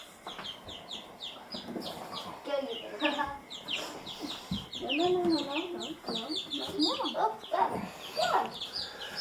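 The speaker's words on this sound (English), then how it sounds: "it's not a pigeon. It's a chicken." Young, growing chickens cluck and peep repeatedly at close range, in busy overlapping calls, with a person talking intermittently among them.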